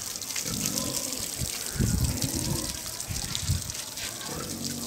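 Water runs at a pig breeding centre as a continuous gushing flow, fairly close, with rougher surges in the middle. Voices are faintly mixed in.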